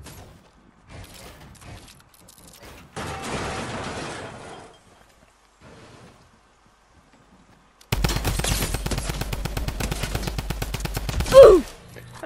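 Rapid automatic fire from a drum gun in Fortnite Battle Royale on PS4, a loud sustained burst of shots preceded by quieter in-game sounds and short bursts.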